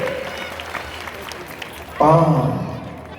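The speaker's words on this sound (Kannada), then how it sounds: "ಚಪ್ಪಾಳೆ ಚಪ್ಪಾಳೆ." Audience applause breaks out at a Jain religious ceremony, a short burst of crowd clapping rising suddenly after a stretch of background murmur and holding loud to the end.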